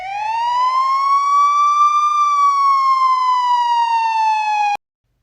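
A police car siren sounds as one loud, close, sustained wail that rises slightly in pitch, then slowly falls before cutting off abruptly.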